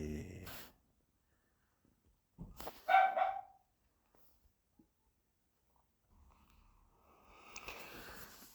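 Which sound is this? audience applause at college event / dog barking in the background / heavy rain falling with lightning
dog barking in the background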